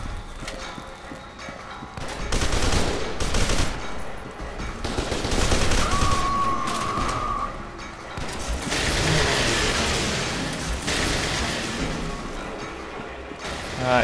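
Laser guns in the shooter F.E.A.R. 2: Project Origin fire in dense, loud, sustained bursts, with steady rapid crackling volleys filling most of the stretch alongside a brief high whine.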